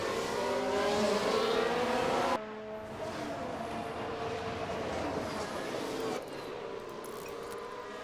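Formula 1 race cars in the F1 Manager 22 video game, heard as a continuous loud engine drone with shifting pitch as the cars jostle for position during an overtake. The level drops in two abrupt steps as the view changes.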